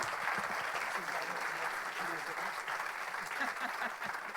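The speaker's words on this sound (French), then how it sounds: "on va le faire sous vos applaudissements si vous voulez bien" Steady, dense audience applause at an award ceremony for eco-activity trophies, sustained evenly throughout with a few faint voices murmuring beneath the clapping.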